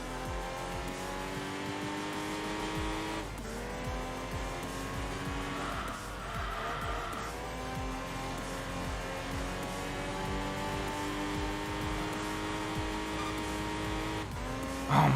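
Bi-turbo race car in Enthusia Professional Racing, its engine revving loud and continuous through gear changes, with tire squeal and brief pitch drops between pulls, no talking.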